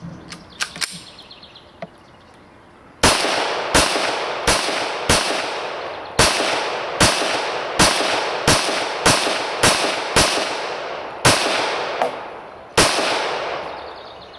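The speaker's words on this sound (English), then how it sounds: "let's shoot a few rounds and see how it feels" A Glock 21 pistol is fired in a steady string of about a dozen loud, sharp shots at close range, each crack trailing a brief decay, preceded by a few faint handling clicks.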